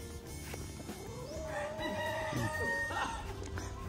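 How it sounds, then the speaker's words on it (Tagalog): Roosters crowing among fighting gamecocks at a game farm, several overlapping crows at varied distances with occasional clucks in the background. "Daming manok ni Daddy."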